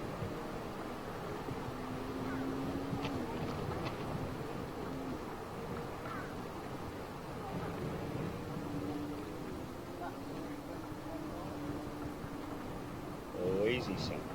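Gusty, blustery wind buffets the microphone steadily at an airport during an AirBridgeCargo Boeing 747-8F cargo jet's approach to East Midlands Airport, with a low steady engine drone beneath and a person talking throughout.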